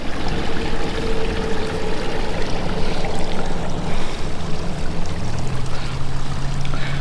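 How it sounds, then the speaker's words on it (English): Small stream and waterfall pouring down beside old pipework, a loud, close, constant rush and splash of water, steady throughout with no voices. "we got a beautiful little stream and waterfall coming down"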